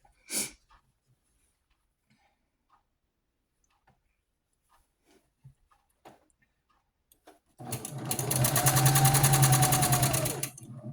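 Sewing machine chain piecing scrap fabric for a doll quilt with a quarter-inch seam, silent at first with faint small clicks, then a loud close burst of fast continuous stitching near the end.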